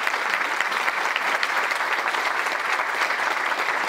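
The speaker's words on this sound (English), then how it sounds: "So we give them a round of applause." Conference attendees at a summit on aging give the organizers a round of applause, a loud, close, continuous patter of many hands clapping that stays steady throughout with no talking.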